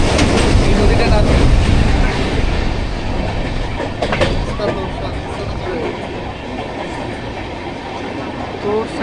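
A passenger train from Kolkata toward Bhutan rolls along the rails, loud rumbling with rhythmic clickety-clack, heard from on board and gradually easing.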